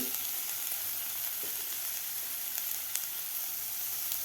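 Carrots and French beans with green chilli and coriander stems sauté in a pan over a high flame, giving a continuous even sizzle with faint stirring clicks.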